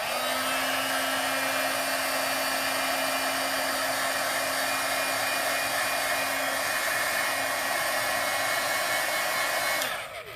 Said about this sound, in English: I'm just going to use my heat gun to quickly dry it up just a little bit more.